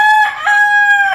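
A rooster crows loudly and up close in the horror game Granny, one sustained harmonic cock-a-doodle-doo call with no voices over it.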